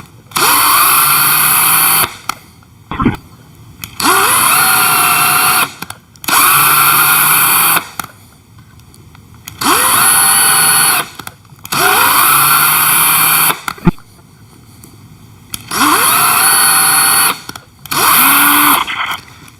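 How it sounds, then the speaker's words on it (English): A hand drill drives a form tap into material in about seven loud, steady whirring bursts, each lasting one to two seconds and separated by short pauses, with no talking. "I'm actually using a form tap here, and I know doing this in a drill is not the ideal way to do it"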